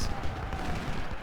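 Massed rifle fire from soldiers in the Civil War strategy game Ultimate General: Civil War at Gettysburg, a dense, continuous crackling roll of shots at moderate loudness, with someone talking over it.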